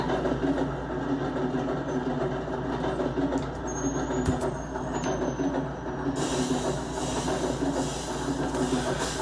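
A Minecraft train rolls into a station, giving a steady mechanical rumble with light rhythmic clatter throughout, moderately loud with no talking.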